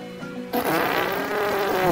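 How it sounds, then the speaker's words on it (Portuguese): A buzzing, rasping fart sound effect in the video game GTA 5 kicks in abruptly after a brief tonal lead-in and carries on loud and steady to the end. "Agora peida, papai, peida!"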